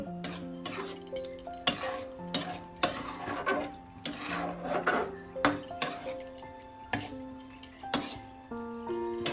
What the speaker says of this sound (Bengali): এইভাবে মিনিট 5 আবারও আমি মাংসটা কষিয়ে নেব।